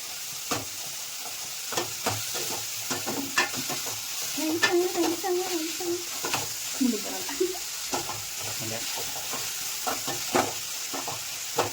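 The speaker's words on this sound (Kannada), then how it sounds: "ಹಸಿ ಸ್ಮೆಲ್ ಹೋಗೋವರೆಗೂ ಸ್ವಲ್ಪ ಅದನ್ನು ಫ್ರೈ ಮಾಡ್ಕೊಳ್ತಾರೆ" Onion, tomato, garlic and masala powder fry for sambar in a pan, with an even sizzle and repeated stirring clicks of a spoon, and faint voices murmuring in the background.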